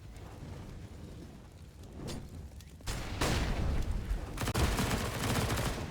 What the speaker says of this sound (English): SMGs continue bursting up to try and dish out the damage